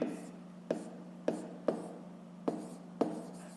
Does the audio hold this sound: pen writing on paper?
yes